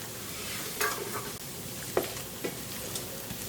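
Garlic and rosemary go into a pan with onions and mushrooms, raising a soft, steady sizzle with a few light clacks and stirring sounds at moderate distance and no speech.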